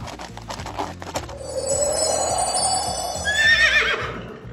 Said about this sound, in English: horse! A brown horse!